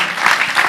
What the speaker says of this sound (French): Je pensais que ça allait être accompagné des applaudissements.